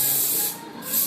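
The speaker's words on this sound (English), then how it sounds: "And just kind of spray your fringe first and spray it upwards just so it holds." A close, loud hiss of strong-hold hairspray aimed upward at a fringe, one sustained burst that dips briefly mid-way before swelling again.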